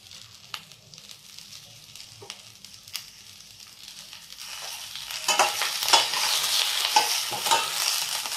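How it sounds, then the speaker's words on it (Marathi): Ripe chilies sizzle in hot oil in a pan while being stirred, quiet scraping at first that swells into a loud, crackling fry. "ही मिरची आपल्याला चांगली खरपूस भाजून घ्यायची। हलवून घ्यायची चांगली।"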